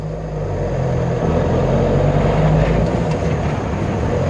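A car accelerates in second gear with a continuous, fairly loud engine drone that swells slightly as it pulls, heard from inside with no talking.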